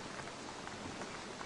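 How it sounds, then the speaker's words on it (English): Rain falls steadily on an orchard at night, a continuous even swish of drops with no breaks, moderately loud and close. "nothing but the swish of the rain in the orchard"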